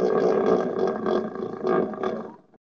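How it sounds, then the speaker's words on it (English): Hippos give a deep, rough bellowing roar that rolls on for a couple of seconds in pulsing grunts, then fades out, at a zoo. "Those must be the hippos."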